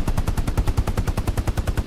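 Rapid automatic gunfire in the World War II shooter Hell Let Loose, a fast, even stream of loud, close shots in an unbroken burst.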